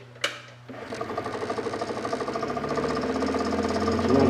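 Wood lathe motor started at its slowest speed while turning a snowman tea light holder: a sharp click, then a close hum with a steady pulsing rhythm that slowly grows louder.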